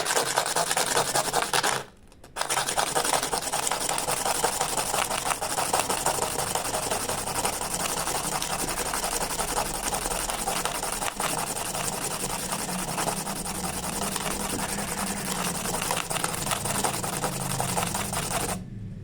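Hand sanding with coarse 60-grit sandpaper makes a continuous, close, gritty rasping that stops briefly near the start and then runs on steadily, with no talk.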